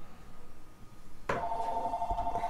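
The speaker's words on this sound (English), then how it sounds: "I'm going to have to answer this phone." A telephone starts ringing partway through, a loud, steady electronic ring that follows a stretch of quiet background noise and carries on to the end.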